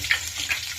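Ginger and chili sizzle in hot oil in a pan while chapati chivda is made, a short, soft frying hiss with a couple of faint stirring ticks and no talking.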